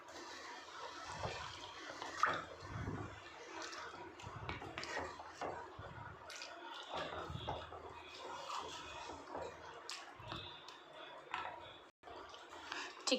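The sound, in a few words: water poured into chicken gravy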